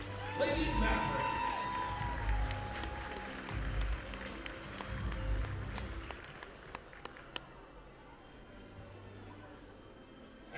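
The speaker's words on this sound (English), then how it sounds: "a big final round of applause for your class of 2025 Lady Mavericks" A crowd at a high school basketball game applauds the class of 2025 Lady Mavericks, loud clapping and cheering mixed with a public-address voice, fading over the last seconds to scattered claps and gym noise.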